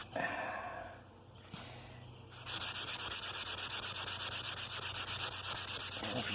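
Hand sanding on oak wood: rhythmic back-and-forth abrasive rubbing, close and steady, with quieter scuffing before the strokes settle into a continuous even pattern.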